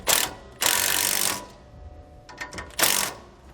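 A socket ratchet tightening U-bolts on a Roadmaster Reflex steering stabilizer gives quick bursts of clicking, two long runs and a final one, separated by quieter gaps with light metallic taps.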